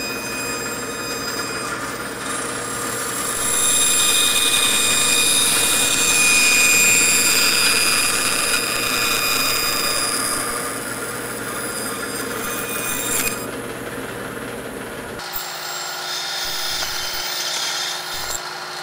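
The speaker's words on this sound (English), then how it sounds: "let's head on over to the bandsaw" A bandsaw cutting through resin-cast wood, a loud steady high-pitched whine and rumble that swells in the middle, then the tone shifts abruptly near the end as the cut changes.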